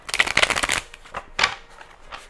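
Tarot cards shuffled by hand: a quick run of riffling, papery bursts up close, then two shorter isolated shuffles, with no talking.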